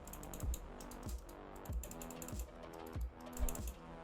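Six rhythmic clicks come from a gaming mouse fitted with Huano switches, each sharp and close, evenly spaced in a quiet room.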